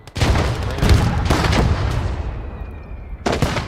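A mortar crew fires in a wartime strategy game, a loud close boom followed by a rumbling tail and a second sharp report near the end, with no voices.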